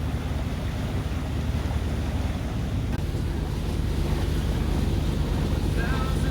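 A trap-laying boat's engine drones steadily across the water between two islands, with wind buffeting the microphone and waves washing throughout.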